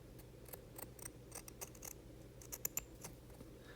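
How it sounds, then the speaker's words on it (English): Pinking shears cut through fabric while piping is being prepared, giving faint, quick snips and clicks in an irregular series in a quiet room. "we're gonna use a pinking shear, and we're just gonna go in, because the pinking shear will give us a little less bulk"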